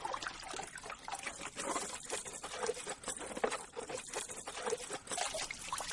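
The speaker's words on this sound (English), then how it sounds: "scrub the face piece and nose cup with a soft brush or sponge" SCBA face piece and nose cup being scrubbed with a soft brush in cleaning solution: a continuous wet, swishing scrub with dribbling and trickling water, steady and close, with no voices.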